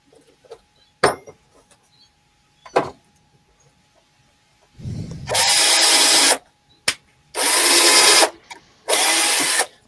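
A power drill running in reverse whirs in three short bursts, separated by quieter knocks and clicks close by.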